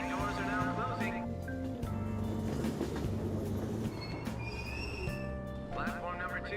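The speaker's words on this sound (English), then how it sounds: "Train doors are now closing." A subway train in Persona 5 Royal sits at a station platform and pulls away, with a rolling rumble, squeal-like tones and chimes layered over a steady mid-level noise bed, and voices speak throughout.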